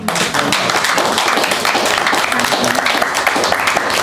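An audience at an evening arts and cultural education event gives a round of applause, sustained dense clapping that stays loud throughout with little talk.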